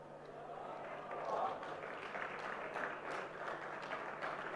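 Applause from an audience at an Amway growth meet, a steady, dense wash of clapping that swells briefly before settling, heard at moderate distance throughout.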